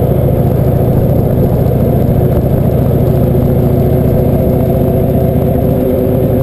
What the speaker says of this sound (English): Lovely torquey engine.